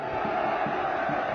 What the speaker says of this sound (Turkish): Taraftarın desteği, tezahüratı devam ediyor.